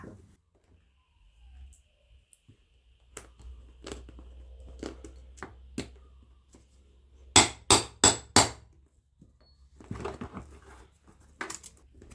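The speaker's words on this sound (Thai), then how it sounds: "นำเหล็กครอบตอกหมุดมาวางไว้ด้านบนแบบนี้นะคะ แล้วก็ตอกให้นั่นเลยค่ะ" Four sharp metallic hammer strikes in quick succession ring out on a steel rivet-setting tool, preceded and followed by quieter taps and handling noises.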